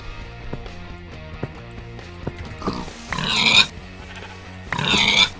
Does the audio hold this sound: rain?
no